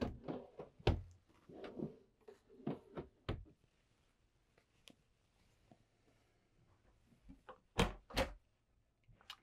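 Drawers and cabinet doors in a 2025 Newmar Northern Star motorhome are slid and shut, giving a string of close, sharp knocks and thuds with quiet gaps and a louder pair of clunks near the end.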